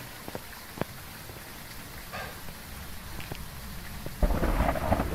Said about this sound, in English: Damn thunder.